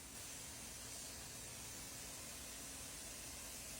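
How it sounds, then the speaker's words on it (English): Wagner paint sprayer laying Bold Black paint onto a dresser, a continuous even hiss under a low motor hum, steady and close throughout. "Of course, I'm spraying it with my Wagner sprayer."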